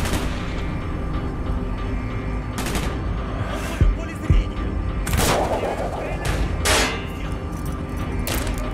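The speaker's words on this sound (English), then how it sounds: "Gunfire's drawing attention." Rapid gunfire from the Call of Duty: Black Ops campaign set on a Cold War era battlefield, with loud sharp shot bursts and heavy impacts repeating over a dense, noisy battle backdrop.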